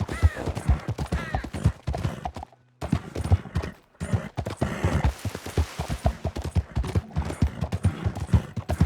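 Horse hooves clip-clop in a rapid, steady galloping rhythm in the video game Red Dead Online, close and continuous, with one brief pause partway through and a faint burst of distant gunfire mixed in.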